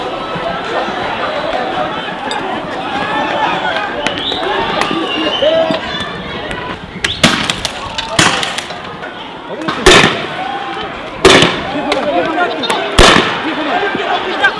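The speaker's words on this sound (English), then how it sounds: "police began dispersing crowds with stun grenades and rubber bullets" Sharp bangs of stun grenades and rubber bullets fired by police at a crowd of students on a university campus, several loud cracks over the constant roar and chatter of a large crowd nearby.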